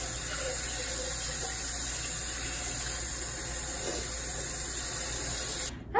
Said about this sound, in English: I like to go ahead and pour cold water over top